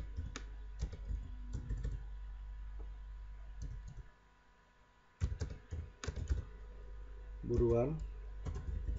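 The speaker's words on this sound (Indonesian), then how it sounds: "Saya ketikkan." Typing on a computer keyboard while entering banner text in CorelDRAW, with irregular clusters of close key clicks broken by a short pause, over a low background hum and brief speech.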